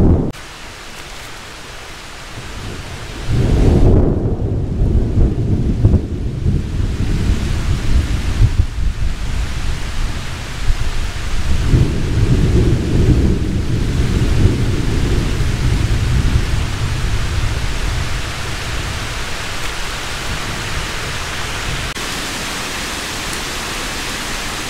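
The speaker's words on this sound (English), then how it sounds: "So it started raining and everyone is absolutely soaked." Thunderstorm with rain in a forest at Lake Vesuvius, Wayne National Forest: steady heavy rain hiss throughout with deep rolling thunder rumbles swelling around a few seconds in and again midway, no voices.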